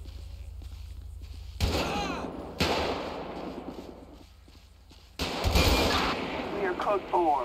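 Gunfire in the video game GTA V during a police encounter: bursts of loud, close shots begin abruptly, with a heavy volley around the middle and another rapid burst near the end over low background rumble.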